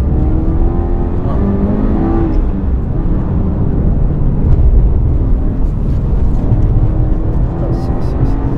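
A car accelerating hard on a race circuit, loud continuous engine roar from inside the cabin with rising revs and gear changes, steady and close throughout.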